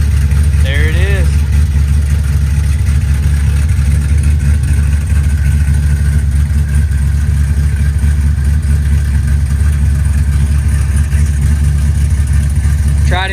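A dually pickup truck with a swapped-in LS V8 engine runs steadily and loud throughout, its low rumble dominating with slight revving, while voices briefly speak near the start and end.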